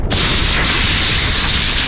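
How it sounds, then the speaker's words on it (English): A torpedo striking a warship, heard as one loud, dull explosive boom that opens abruptly and rumbles on as a dense roar for nearly two seconds. "Explosion."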